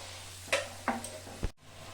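Raw, unfried paneer goes into a frying pan with sugar and spices, giving a few quiet scraping stirs and soft sizzles spaced apart, then a brief drop to near silence.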